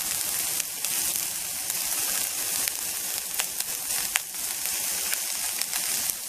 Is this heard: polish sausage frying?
yes